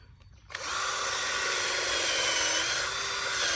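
A power drill bores into a tree trunk at the root area to inject medicine, starting after a brief quiet moment and then running as a loud, steady whining drone to the end.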